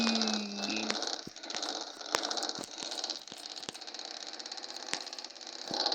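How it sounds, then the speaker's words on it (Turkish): A truck's rumbling engine idles with a steady rattle and regular clicking ticks, close by, with no talking. "tırı çalıştıralım"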